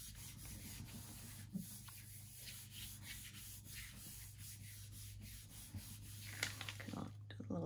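Steady dry rubbing of a hand pressing a laser print down onto a Gelli printing plate, a continuous close scuffing texture with small bumps, no talking.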